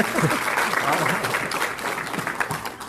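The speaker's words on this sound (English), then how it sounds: "So please give a round of applause again for Dirk Losander." An audience at a Texas magicians' convention in 2022 applauds steadily and fairly loudly, a thick wash of clapping running the whole time with someone talking over it.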